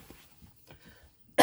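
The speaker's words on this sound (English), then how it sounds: "Of course, I cough." After a stretch of near silence with faint soft shuffling, one loud, abrupt cough bursts out close by at the very end.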